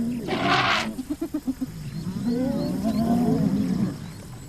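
A young male elephant charges a group of hyenas feeding on carcasses on an open plain, with hyena whoops and rising calls alongside a short run of rhythmic pulsing grunts, loud and close.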